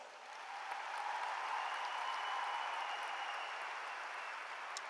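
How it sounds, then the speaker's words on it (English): Sustained applause from a high school graduation audience for honoured seniors, a steady dense wash of clapping hands filling a large venue, no talk over it. "Please join me in giving these students another round of applause."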